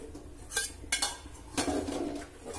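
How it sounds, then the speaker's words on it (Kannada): Tempering added to a pressure cooker pot and mixed in, a few soft metallic clinks and scrapes of a spoon against the pot, quiet and close with pauses between. "ಈ ಒಗ್ಗರಣೆನ ಹಾಕೊಳ್ತಾ ಇದ್ದೀನಿ."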